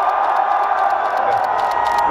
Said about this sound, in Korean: 여러분들 어색할 때는 함성과 박수 보내주시기 바랍니다